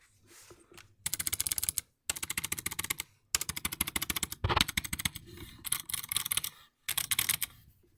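Bursts of fast typing on a non-mechanical RGB gaming keyboard, dense rapid key clatter in several runs separated by short silent pauses, close and loud.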